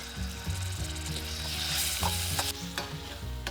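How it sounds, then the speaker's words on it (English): Minced garlic and ginger frying in oil in a wok, a dense continuous sizzle with scraping stirs and a few sharp metallic clicks of the utensil against the pan. "add in 3 cloves of minced garlic and 1 tablespoon of minced ginger and cook that for a minute"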